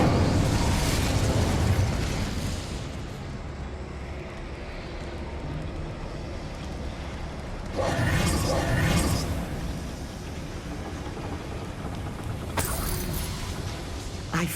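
An Incendiary fire spell bursting in Hogwarts Legacy, a loud roaring blast that opens the stretch and fades into a rumbling fiery wash, with further whooshing bursts flaring up midway and again near the end.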